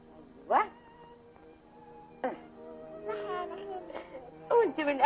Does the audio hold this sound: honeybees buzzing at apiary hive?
no